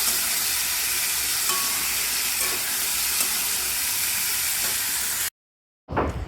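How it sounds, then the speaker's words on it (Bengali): Steady sizzling of chickpeas frying in a pan with red and green chillies, scraping stirs, continuous and fairly loud, cutting out briefly near the end before resuming. "মরিচটা আর কাঁচা লঙ্কাটা ভাজা হয়ে গেছে প্রায় আর আমি এর ভেতরে দিয়ে দিয়েছি ছোলা"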